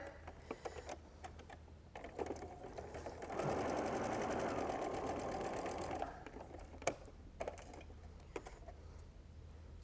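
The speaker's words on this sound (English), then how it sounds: "let's sew these two pieces together." Sewing machine stitching quilt fabric pieces for a baby quilt, a rapid mechanical whir running for a few seconds between quieter handling clicks and rustles.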